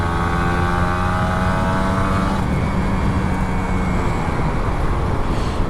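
An old Kawasaki Ninja RR 150 motorcycle rides at full throttle, its engine a loud, continuous high-revving drone with a steady tone that shifts partway through as wind roar washes over it.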